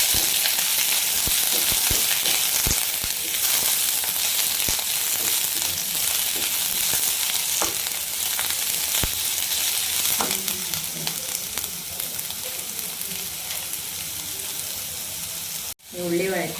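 Sliced onions with a pinch of salt sauté in a pan for a vegetable coconut milk curry, a steady close sizzle with intermittent stirring scrapes, then a brief knock near the end.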